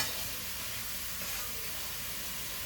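Onions and celery sauté quietly in a pan for braised beef, a soft, even sizzling hiss running steadily throughout without voices.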